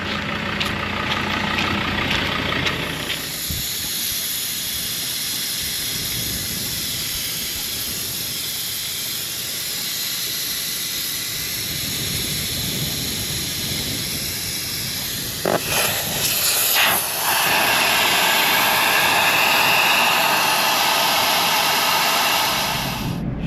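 Air hisses steadily out of car tyres being let down for a sandy coastal track in Western Australia, a loud, continuous close rush that shifts in tone partway through as the valve changes, with no talking.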